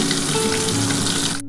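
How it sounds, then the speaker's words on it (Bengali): Pieces of bhola fish frying in hot oil, a loud, dense, continuous sizzle heard up close that cuts off abruptly at the end. "তুলে নিয়ে তারপরে যেগুলো রয়েছে সেগুলো আমি ভেজে নেব"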